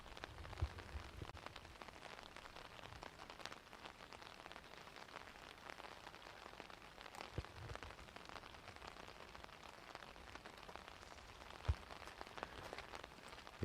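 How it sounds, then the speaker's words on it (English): Rain falling during a disc golf tournament in Turku, a steady faint patter on surfaces with occasional louder drops and no talk. "It is still raining in Turku"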